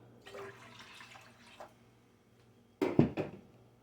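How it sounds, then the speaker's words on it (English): Water pours and splashes into a pot at close range, in two short bursts with a quiet pause between them. "So I'm going to add a cup of water."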